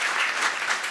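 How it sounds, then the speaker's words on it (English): Audience applause at an international policy panel forum in Brussels, a steady, dense round of clapping filling the room for about a second with no voices. "that draws a round of applause."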